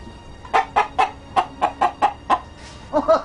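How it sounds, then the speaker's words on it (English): A rooster clucks in a quick, regular series of short, sharp calls, close by, ending in a slightly faster burst. "It's a rooster."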